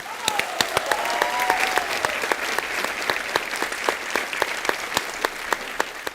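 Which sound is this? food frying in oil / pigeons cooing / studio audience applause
studio audience applause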